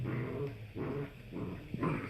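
Poodle puppies around eight weeks old growl and grumble continuously while playing, a close, steady rough rumble with short breaks and no talk.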